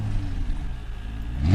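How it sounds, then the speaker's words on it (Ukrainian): A low, steady car engine rumble swells into a rising rev at the very end, loud and close. "це звук машин"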